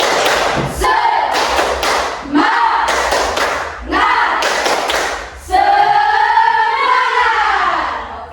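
A school class doing the spirit clap together: loud rhythmic bursts of group clapping in short patterned sets, with the children chanting along throughout.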